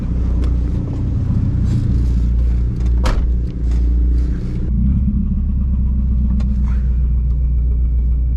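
A Volvo 740 drift car idles roughly with a loud, close, uneven chugging rumble that runs steadily throughout, with a brief sharp knock partway through and no voices.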